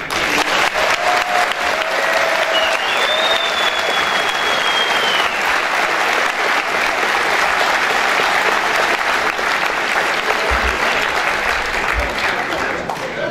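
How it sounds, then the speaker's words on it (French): Warm, sustained audience applause at a school integration-week closing ceremony in a hall, continuous dense clapping with faint whistles and cheers riding above it. "Je vous demande donc d'applaudir chaleureusement Ottman."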